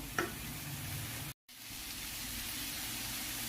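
Chopped tomatoes sauté in a pan for a paneer roll filling, giving a steady, soft hiss of frying that cuts out for a moment, then resumes evenly.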